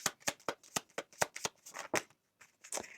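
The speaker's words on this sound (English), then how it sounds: "One more shuffle now." Oracle cards being shuffled in quick succession, a rapid run of crisp papery riffles and snaps, close and fairly soft, with a short pause before a final burst.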